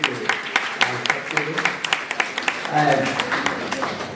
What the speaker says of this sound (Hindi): एक बार जोरदार तालियां इसके लिए